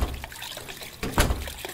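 Water trickling and dribbling in a horror video game, thin uneven splashes with a brief louder gush partway through, close and alone.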